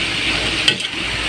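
Vegetables and long beans being sautéed in a pan in a home kitchen in the Philippines give a steady, close sizzle with light stirring scrapes and a brief clatter near the middle, with no voices.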